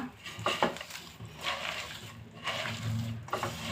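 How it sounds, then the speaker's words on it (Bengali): Hands mixing fish with turmeric, cumin and salt, along with chopped onion, chilli and potato, produce soft squelching and light scraping against a bowl, a few irregular moist pulses, close and moderately quiet. "দিয়ে দিব হলুদ গুঁড়ো, জিরা গুঁড়ো আর দিয়ে দিব স্বাদ মতো লবণ। এখন আমি হাতে মাখিয়ে নেব এটা।"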